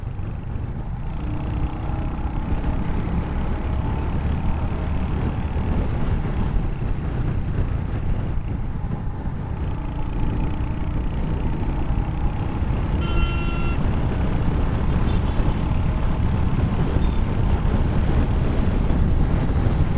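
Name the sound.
Royal Enfield Hunter 350 motorcycle cruising at speed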